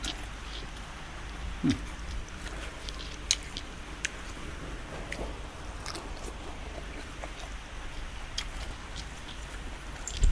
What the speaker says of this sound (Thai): ฝนตกมากเลย